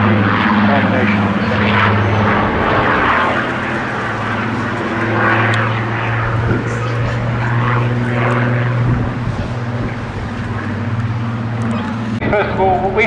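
A propeller aircraft flies a display at the Bournemouth air show, with a loud, sustained engine drone that rises and falls slightly as it passes, while a commentator speaks over it.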